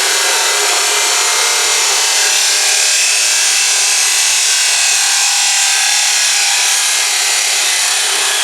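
A saw blade cuts through wood during a tiny house build, a loud, continuous, harsh rasping hiss sustained for several seconds without pause.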